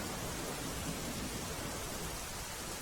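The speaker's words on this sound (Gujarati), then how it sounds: "ખાંભા ગીર પંથકમાં ધોધમાર વરસાદ પડ્યો છે" Heavy rain pouring in Khambha Gir, Amreli, Gujarat, a dense, even hiss of rainfall that stays steady and unbroken throughout.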